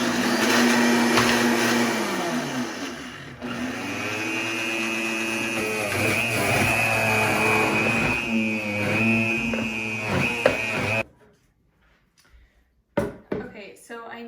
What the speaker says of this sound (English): throw it into this Vitamix and blend that up